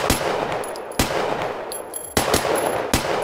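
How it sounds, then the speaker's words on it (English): Gunshots ring out in a shooting stage design simulation for USPSA, with several sharp reports spaced about a second apart over a steady hiss, the targets including bobbers, swingers and a plate. "and then you shoot the plate off"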